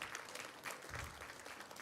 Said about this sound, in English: I want us to especially put our hands together for all the awardees this evening.